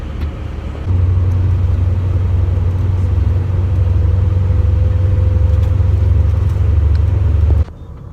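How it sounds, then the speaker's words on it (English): A night bus rumbles along the road between Montenegro and Kosovo, a loud, steady low engine drone that holds constant for several seconds before dropping off near the end. "It is night bus time."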